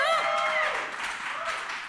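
A live podcast audience at the Chicago Podcast Festival applauds and cheers for the show's first-ever live taping, with dense clapping and high whoops near the start, holding steady and easing slightly over two seconds.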